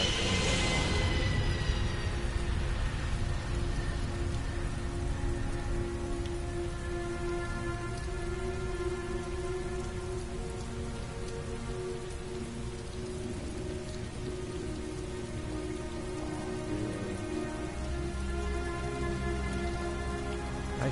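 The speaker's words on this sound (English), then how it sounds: "I mean, the rain effect." Steady, heavy rain in the video game Heavy Rain hisses continuously with a low background rumble, with no voices present.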